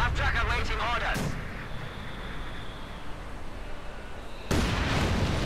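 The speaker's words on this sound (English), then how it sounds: "Incendiary round goes off" An incendiary artillery round goes off in a Company of Heroes 2 match, a heavy blast and rumble that fades into a low roar before another loud burst hits near the end.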